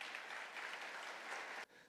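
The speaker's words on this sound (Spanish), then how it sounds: "Dale un aplauso al Rey." A church congregation claps and applauds steadily in a dense, continuous burst of hand claps that drops off sharply near the end.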